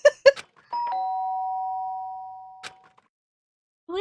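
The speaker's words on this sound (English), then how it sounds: "The sharp sound of the doorbell pierced my sleepy haze and pulled me back to the real world." A clear electronic doorbell chime in the video game Yakuza 3 Remastered rings once, two tones sustaining before fading, after a couple of short clicks, then quiet.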